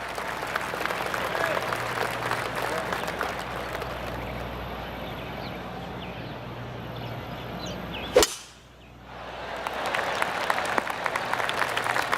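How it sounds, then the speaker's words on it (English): Polite golf claps from a gallery in the PGA 2K25 video game after a missed birdie putt in a playoff, a steady patter of applause around the course that cuts out abruptly with a sharp crack. "I can hear the golf claps around the course"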